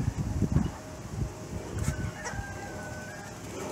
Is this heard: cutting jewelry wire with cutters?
no